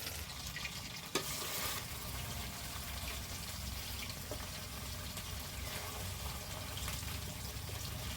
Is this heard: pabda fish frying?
yes